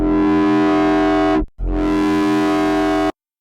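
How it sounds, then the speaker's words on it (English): A loud, buzzing distorted bass synth tone holds steady, cuts out briefly, then returns with the same gritty foghorn-like drone before stopping abruptly. "foghorn sounds that are going to be put through pretty heavy distortion"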